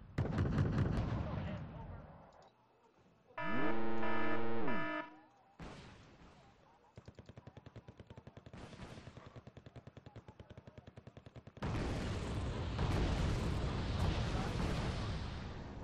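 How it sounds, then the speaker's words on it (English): Wargame Red Dragon battle with missile launches and gunfire: loud bursts of rapid automatic fire and blasts, a steady rattling stretch mid-way, then a dense roar of firing toward the end, with game voices heard in places. "Missiles coming all over the place."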